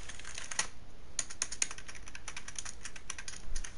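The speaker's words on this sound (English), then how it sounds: "You guys hear that? That's my keyboard." A computer keyboard clacks close up in quick, uneven runs of sharp keystrokes with no pauses, heard alone.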